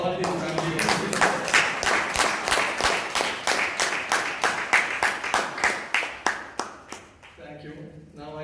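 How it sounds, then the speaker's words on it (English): Toastmasters meeting audience in Bangalore claps for a speaker in quick, roughly rhythmic unison, a room of hands beating steadily before fading, after which a voice begins. "We should give an extra clap for Jose Paul for doing all these family activities."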